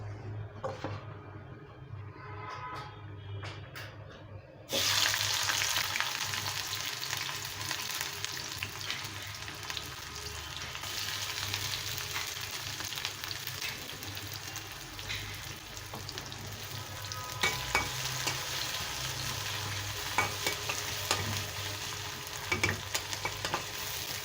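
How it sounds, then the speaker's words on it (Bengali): Onions frying in oil in a pan, to be cooked with tomato into a pabda fish bhuna: a quiet start jumps to a loud, steady sizzle with repeated spatula stirring and scraping throughout. "পেঁয়াজটা একটু ভাজা ভাজা হলে তারপরে মশলাগুলো দেবো।"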